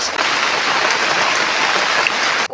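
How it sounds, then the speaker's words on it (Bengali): Rain falls outdoors and sets in as a steady, dense hiss of drops on surfaces, loud and close and unbroken, with no talk over it. "বলতে বলতে বৃষ্টি চলে আসলো।"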